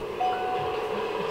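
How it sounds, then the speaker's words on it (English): Cable car tram climbing a mountain in GTA 5, heard as a steady mechanical rumble with a faint whine, continuous and fairly close, with no voices. "We take this tram cable car thing up to the top of the mountain"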